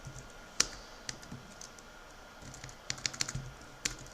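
Quiet, scattered keystrokes on a computer keyboard during a coding session, with sparse single clicks and a short quick burst of typing near the end, all close-up and with no talking.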